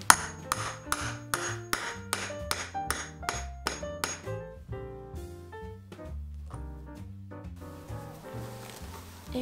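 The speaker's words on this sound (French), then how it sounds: "Je viens frapper avec un marteau." A hammer strikes a small press to set a metal eyelet on a knitting bag, a run of about ten sharp regular blows, then ringing tonal notes of background music take over.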